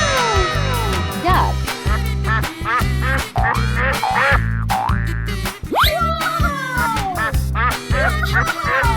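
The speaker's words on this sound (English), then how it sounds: "Duck." Cartoonish duck quacks ring out loud and repeated in a 3D animal slide video game, mixed with bouncy boing effects and busy game sound throughout.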